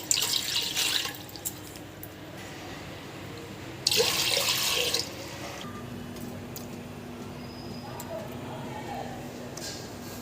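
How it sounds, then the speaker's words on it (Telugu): Water goes into a pot on the stove for cooking junnu in two separate short splashing pours, each followed by quieter stretches with faint drips. "2 గ్లాసెస్ వాటర్ వేయాలి."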